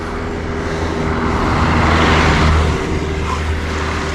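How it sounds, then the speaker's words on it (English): A car climbs the 28% steep Höttinger Höll road, its engine rumble rising as it passes close by, loud for a few seconds before fading, with no talk over it. "No, a car."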